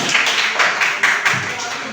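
Classroom of students clapping for a classmate, a brief burst of rhythmic group applause with a few sharp claps, close and fairly loud.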